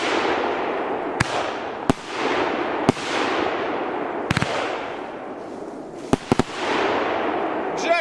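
Large-calibre fireworks with a golden falling brocade effect burst outdoors, sharp loud bangs at irregular intervals followed by long crackling, hissing decays as the brocade trails fall.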